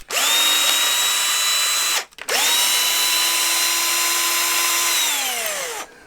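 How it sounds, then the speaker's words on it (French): A cordless power screwdriver unscrews fasteners from a motorcycle radiator on a Honda Transalp, two long, loud, close whirring runs of about two and three and a half seconds with a brief pause between, with no talking. "Je vais prendre la visseuse"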